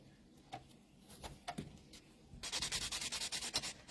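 A buffing block rubbed against a fingernail to clear leftover dip powder after e-file removal, a few scattered scrapes, then a rapid run of rhythmic close buffing strokes, faint and alone.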